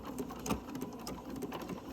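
A sewing machine stitches two angled fabric pieces together, giving a steady, close, rhythmic mechanical whir with quick repeating needle clatter throughout, with no talking.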